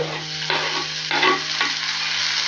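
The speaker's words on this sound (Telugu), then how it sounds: "టొమాటోలు యాడ్ చేసుకున్న తర్వాత అంతా ఒక్కసారి ఇలా బాగా మిక్స్ చేసుకోవాలి" Tomatoes are stirred into a frying vegetable curry, with a close, continuous sizzle broken by a few scraping strokes of a spoon around the pan.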